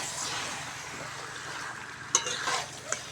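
Cut, washed potato pieces drop into a pan of frying chicken scraps, giving a steady close sizzle with a few sharp clinks of utensil against the pan near the end.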